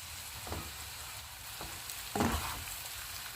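Mashed potatoes being stirred into a pan of spices (pomegranate seed powder, garam masala, roasted masala, salt): soft, quiet scraping strokes over a faint sizzle, with a few sharper stirs.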